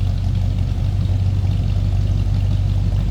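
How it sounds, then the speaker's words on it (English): A 1985 Chevrolet Monte Carlo SS V8 idles with a steady, deep rumble, close and continuous with a slight throb and no speech. "We got a little rumble now."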